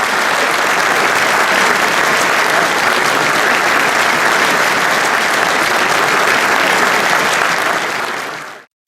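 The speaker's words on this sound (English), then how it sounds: "thunderous applause." Thunderous applause fills a room of participants at a peace gathering, a dense, loud, unbroken wall of clapping that holds steady for several seconds before cutting off abruptly.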